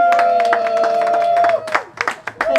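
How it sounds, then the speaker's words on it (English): Crowd applause and scattered cheering at an outdoor Watford family fun day, greeting the assistant mayor; dense steady clapping with a sustained tone underneath, breaking into sparser claps and voices toward the end. "Can we have a round of applause for Assistant Mayor,"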